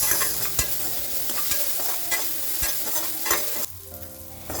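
Steady sizzling of onions frying in a pan, with a few scraping stirs, close and fairly quiet, no talking.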